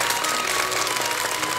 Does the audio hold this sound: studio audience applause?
yes